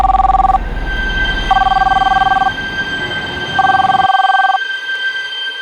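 A landline telephone rings in three loud, even bursts with short pauses between them, then stops, leaving a quiet room.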